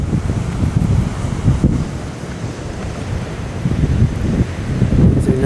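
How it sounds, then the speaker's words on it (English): Strong gusty east-northeast wind around 20 mph buffeting the microphone at a beach with building surf, rumbling and uneven, loud throughout with surging gusts and the wash of waves underneath. "Pushing 20 miles per hour in the gust, maybe a bit more."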